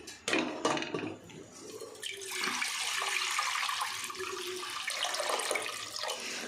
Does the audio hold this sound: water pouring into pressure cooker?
yes